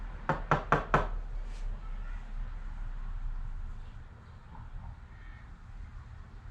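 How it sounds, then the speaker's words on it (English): Four quick, sharp taps in a row as a loose part on a 1965 Jaguar S-Type is gently knocked down against a vise, close and crisp, followed by quiet room tone. "Now, I'm just going to tap it down."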